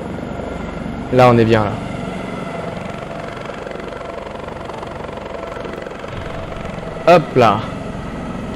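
AS565 helicopter in X-Plane 11, landing over Manhattan, with a steady loud rotor and engine drone throughout; someone speaks briefly twice over it.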